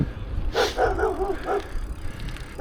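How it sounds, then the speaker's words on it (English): A dog barks a few times some distance away during an early Sunday bike ride past a graveyard, the short barks rising over quiet outdoor background noise. "Other than that dog barking over there."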